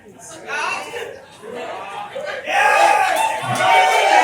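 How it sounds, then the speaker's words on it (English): A crowd at a stand-up comedy show held during an immigration lawyer conference in New York City cheers and claps. The noise swells halfway through into louder whooping and applause, with voices mixed in. "Give yourselves a round of applause."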